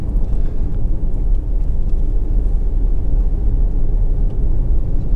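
A Honda CR-V 1.6 i-DTEC diesel engine idles with a steady, heavy low rumble, loud and close, with no talk.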